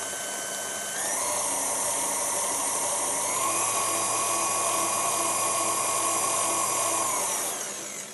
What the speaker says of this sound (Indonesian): Kita mix dengan speed rendah saja hingga tercampur rata.